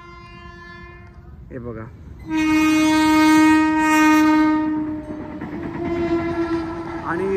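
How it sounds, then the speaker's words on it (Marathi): An AC suburban train passes on railway tracks near Kalyan, its loud horn blaring for several seconds over rumbling wheels, with a person speaking briefly before it arrives. "बघा ही ट्रेन आहे, मी तुम्हाला दाखवतो, ए सी ट्रेन आहे"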